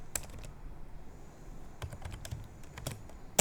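A handful of quick computer-keyboard keystrokes tapped out in a short irregular burst, close and fairly quiet, with a sharper final key press like hitting enter.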